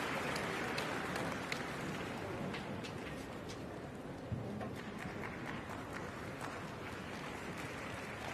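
Applause fills the Kokugikan sumo arena after Ura defeats Yutakayama on day 12 of the January tournament, a steady, dense clapping wash with scattered sharper claps, moderately distant and continuous throughout.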